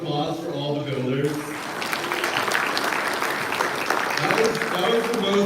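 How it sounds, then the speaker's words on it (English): An audience at a builders' showcase event breaks into sustained, loud applause, a dense steady wash of clapping that carries on from start to finish, with a voice heard briefly at the beginning. "can we just have one more round of applause for all the builders?"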